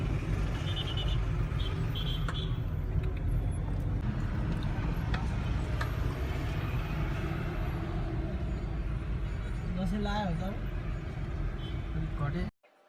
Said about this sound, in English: Now driving in Kathmandu.